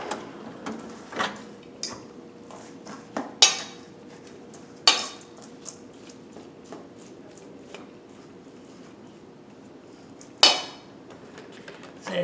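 Pickled eggplant being mixed with oregano in a bowl, with sporadic clinks and knocks of a utensil against the bowl over a low scraping, close and irregular.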